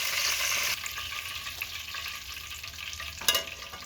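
Fried chicken pieces sizzle in hot oil in a pan, a steady close crackle that hisses louder at first. It settles into a softer bubbling, then a brief stir or clatter follows, with no voices.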